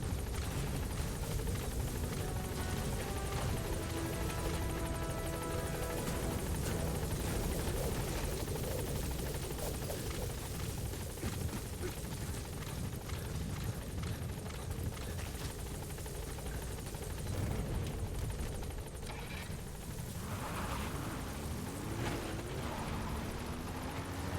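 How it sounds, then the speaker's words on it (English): Support helicopter in the Metal Gear Solid V video game, a sustained rotor drone with steady chopping that stays loud and close throughout, with faint game sounds underneath. "Support helicopter has arrived."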